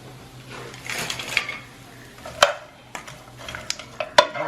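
Vegetables sautéing in a pan make a soft sizzle under intermittent clinks and scrapes of a utensil against the cookware, with a few sharper knocks standing out.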